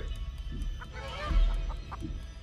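A giant chicken in a video game clucks in short, repeated bursts amid a low rumbling backdrop, moderately loud with a steady pulsing rhythm.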